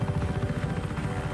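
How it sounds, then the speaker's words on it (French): A helicopter in Just Cause 3 idles nearby with a heavy, rhythmic rotor thump, loud and low and steady for the whole moment, with no voices over it. "regardez, il y a un hélico qui traîne"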